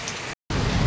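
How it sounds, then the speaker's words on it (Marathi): Heavy unseasonal rain pouring down, a brief burst of dense close hiss broken by a short silent gap before the downpour resumes louder. "पाणी बघा किती पडतोय तो"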